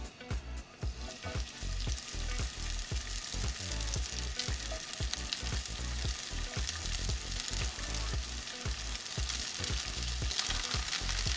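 Tofu sears in hot olive oil in a pan over medium heat for a vegan Mexican tofu dish, giving a loud, steady sizzle with a dense crackle and spatter of pops throughout, no voices.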